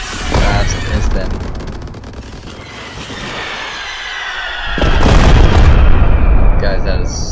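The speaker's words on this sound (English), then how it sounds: "Another rocket. Now we got the medium fuse." Firework rockets launch and burst with loud booms and crackles, one around the start and another near five seconds, set off beside a gas station, heard close and forceful.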